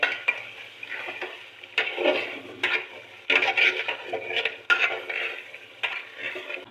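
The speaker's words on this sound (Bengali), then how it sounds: "এখন মাংসটা ভালোভাবে কষাই নিব" Meat being stirred and fried in a pan for khichuri, with repeated scraping strokes of a utensil against the pan over a steady sizzle, close and moderately loud, no talking.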